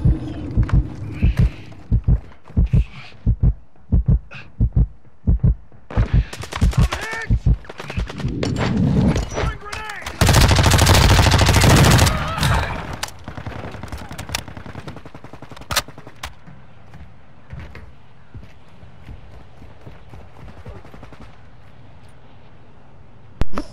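Call of Duty DMZ combat: a string of loud, evenly spaced single gunshots leads into heavy automatic fire and a roaring blast-like burst, then fades to quieter battle noise with a final shot.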